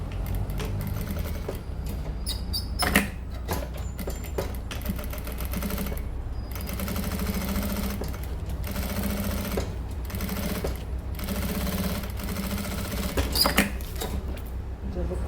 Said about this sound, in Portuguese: costura também, prendendo já o forro aqui na lateral